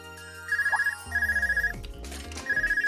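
A phone ringtone in The Legend of Heroes: Trails of Cold Steel video game chirps in short, pulsing electronic trills that repeat three times over a soft game music background.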